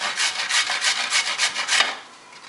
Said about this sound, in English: you just definitely want to fine grate all this right into a bowl